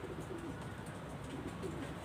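Pigeons in a rooftop loft coo softly and repeatedly, low murmuring calls at a moderate distance over a steady background hum.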